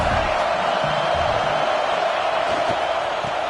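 A football stadium crowd during a college game against Cincinnati roars in a loud, continuous wall of noise, with scattered shouts and whoops rising within the steady din.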